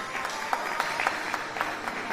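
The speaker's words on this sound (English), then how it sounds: "Let's clap for Caroline Rashikat." A graduation ceremony crowd at Ufungamano House in Nairobi claps for a graduate, a fairly even wash of many hands with regular louder beats that fall into a loose rhythm, moderately distant and without talk.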